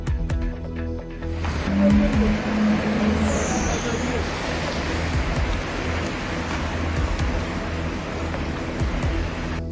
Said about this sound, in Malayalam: മഴയിൽ മുങ്ങി കൊച്ചി